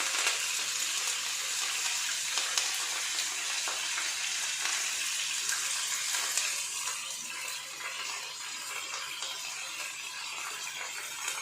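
Chillies and curry leaves fry in hot oil with a steady, even sizzle. The crackle runs loud and close throughout and fades slightly toward the end.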